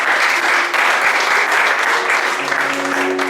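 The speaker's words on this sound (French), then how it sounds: "Est-ce qu'on peut acclamer le Seigneur pour tout?" Church congregation applauding and cheering in praise of the Lord, a dense, steady wash of clapping hands that fills the room continuously, with a few voices calling out faintly beneath it.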